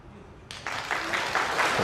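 Snooker crowd breaking into applause after Ronnie O'Sullivan pots a ball at the World Championship, starting suddenly after a quiet moment and building into steady, dense clapping.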